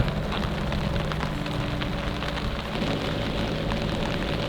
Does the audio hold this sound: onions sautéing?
no